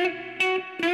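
Slow blues electric guitar notes with a bend, played with reverb and an effects unit: three sustained, ringing plucks in under a second, each attack bright and the tone richly harmonic.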